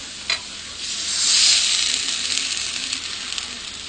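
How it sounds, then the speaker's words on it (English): Pork browning with fresh garlic in a hot pan gives a close, steady sizzle that swells after a brief clink, then settles into a continuous frying hiss. "just brown the pork, and you mix it together with the fresh garlic"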